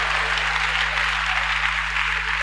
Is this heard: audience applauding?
yes